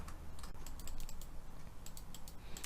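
Keys clatter on a computer keyboard in irregular bursts of quick taps while entering Java code, close and fairly quiet with no talking.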